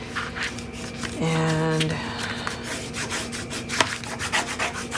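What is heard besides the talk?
burnishing paper for mini album base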